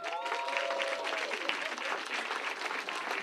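A live audience gives a steady, dense round of applause and cheering, loud and even throughout the short stretch with no speech over it.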